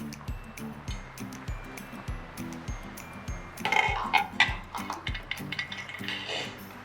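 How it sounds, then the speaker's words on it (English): Owho soup, a Delta State Nigerian dish, being stirred steadily in a pot, with rhythmic, close clinks and scrapes of the spoon against the metal repeating at an even pace and briefly quickening into a sloshy swirl midway. "You have to keep stirring, stirring, stirring."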